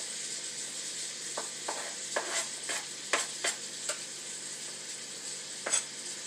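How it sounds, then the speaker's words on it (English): Onions and garlic sauteing in a pan, with a soft steady sizzle running underneath and a series of sharp stirring scrapes and clinks coming through at irregular intervals. "I'm just sauteing my onions and garlic"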